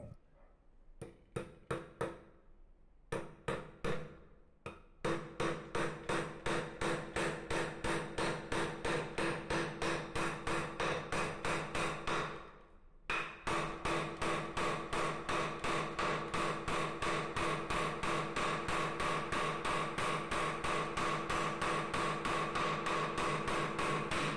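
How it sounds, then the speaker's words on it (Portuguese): Steady hammering of a nail into wood with the hammer head of a survival multi-tool: a few scattered blows, a short pause, then a long run of rapid, evenly spaced loud strikes continuing to the end, with no talk. "Agora testando a função do martelo."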